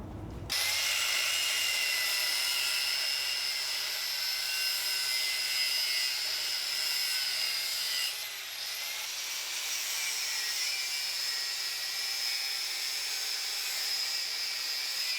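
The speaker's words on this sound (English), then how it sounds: "So, it's back to the abrasive cutting wheels," An abrasive cutting wheel grinds through the casing of a scrap AC compressor motor, a loud, steady high-pitched whine that holds continuously for about fifteen seconds with a brief dip in pitch and load partway through.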